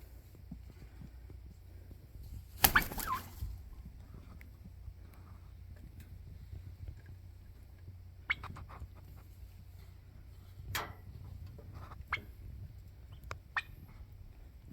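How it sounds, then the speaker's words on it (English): Turkeys give a few short, faint gobbles and calls at a distance over quiet background, with one louder burst early on and scattered brief calls later. "Turkeys are doing good."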